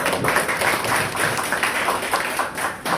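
An audience at a Narayanganj city press club event, held to hand out computers, claps in dense, continuous applause with a steady patter of many hands.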